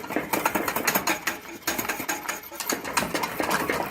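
A wire whisk beats maple eggnog with kefir in a pot, making a fast, steady, close scraping and clattering rhythm that runs continuously throughout.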